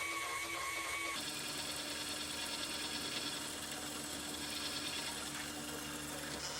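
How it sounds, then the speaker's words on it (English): A milling machine's power Z-axis feed running in a home workshop during a model boiler build, a steady loud motor whine and mechanical hum that shifts in pitch about a second in and then holds steady. "Sure do love this power Z feed on my mill."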